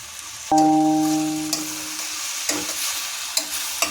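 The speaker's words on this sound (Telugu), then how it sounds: "మధ్య మధ్యలో కొంచెం ఇలా కలుపుతూ ఉండాలి" Sorrel leaf (gongura) curry with tamarind is stirred in a pan. A spoon gives a ringing metallic clink against the pan, followed by soft scraping and knocks over a steady sizzle.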